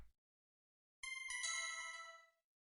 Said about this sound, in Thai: ก็จะมีเสียงแจ้งเตือนครับ